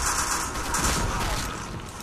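Rapid bursts of gunfire from the online shooter Black Squad crackle at moderate volume, dense and continuous with mechanical clatter, alongside faint talk.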